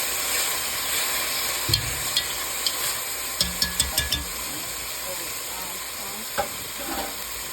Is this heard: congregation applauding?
no